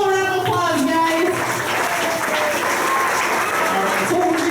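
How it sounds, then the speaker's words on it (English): An audience at a harbor attack stunt show at Walt Disney World breaks into loud, continuous applause, with voices calling out and talking over the clapping throughout. "And let's give them all a round of applause,"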